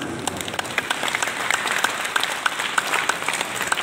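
Steady applause from an audience at a Hindu religious discourse in a Radha Krishna temple, dense, even clapping that fills the whole stretch at a moderate distance without pause.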